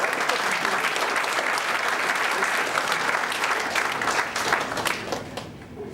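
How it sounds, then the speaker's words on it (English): A large audience at a motivational seminar claps steadily and densely, a loud continuous wash of applause that thins and fades toward the end, with no talking over it. "You are clapping, let it come from heart"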